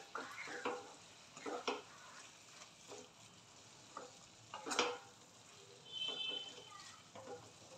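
Mixed vegetables with bell pepper cook uncovered in a pan, giving a faint background sizzle broken by several soft stirring scrapes and clinks of a utensil.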